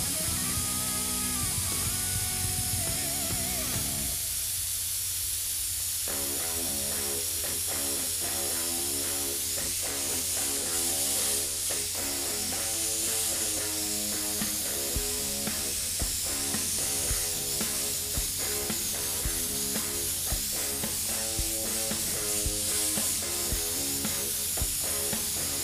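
A steady, loud airbrush hiss runs continuously as paint sprays, with faint mechanical clicks and rattles beneath the constant airflow.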